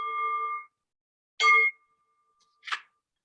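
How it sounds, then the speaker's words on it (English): A small meditation bell rings clearly once with a sustained tone, followed by two softer, brief metallic taps in an otherwise silent room. "I'm going to ring my little bell again"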